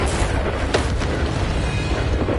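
Bombarda blasting spell going off in Hogwarts Legacy, a single deep boom with a sharp transient that sits over continuous rumbling game ambience and ends quickly.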